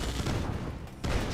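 Harvesters return fire in Command & Conquer Red Alert, producing a dense, continuous burst of gunfire with a brief dip partway through before the shooting swells again.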